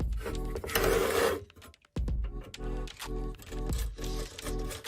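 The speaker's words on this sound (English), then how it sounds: "we're going to use that same mini torque screwdriver to take out 2 screws with the CD player" Whirring electric mini torque screwdriver backing screws out of a Jeep CD player: a loud buzzing run, a brief pause, then a steady motor whine with rhythmic pulsing close by, with no talking.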